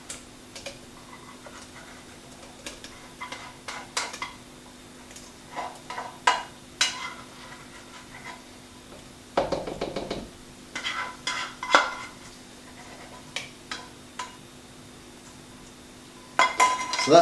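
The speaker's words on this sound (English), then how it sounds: "I'm going to spoon that in the NutriBullet" Spoons clink and scrape against a container while lemon cheesecake mixture is scooped into a NutriBullet, with scattered sharp taps and knocks separated by short quiet gaps.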